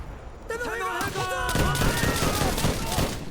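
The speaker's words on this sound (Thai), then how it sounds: "ยินเสียงมอท่า" Call of Duty: World at War combat sounds with booming mortar fire and gunfire rumbling continuously, a voice talking over the noise.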